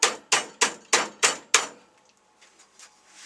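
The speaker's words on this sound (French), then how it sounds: "on peut, comme je vous dis, le redresser au marteau" Six sharp metallic hammer blows ring out in an even rhythm as a hammer straightens over-bent sheet metal on a homemade sheet metal bender, each strike close and loud with a brief ringing decay, then a few faint clinks.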